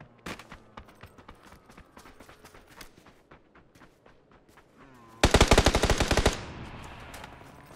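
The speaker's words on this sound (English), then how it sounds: "Are you just shooting crates? Yeah, I'm shooting crates." Gunfire in a battle royale video game aimed at crates: scattered single shots over a quiet stretch, then a loud, rapid automatic burst lasting about a second before fading out.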